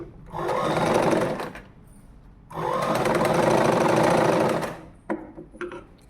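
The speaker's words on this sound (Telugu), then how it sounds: "ఇలా అయితే ఫస్ట్ మనం ఉక్సు పట్టి కుట్టాలి" A sewing machine stitches a jacket in two loud continuous runs of about a second and two seconds, separated by a brief pause, followed by short bursts and handling near the end.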